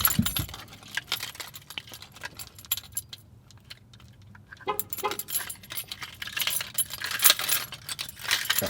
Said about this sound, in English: Got so many freaking keys.